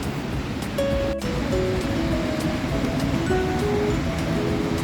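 A river rushes between mountains near Vasudhara waterfall, a steady loud broadband roar of water that fills the whole stretch without a break.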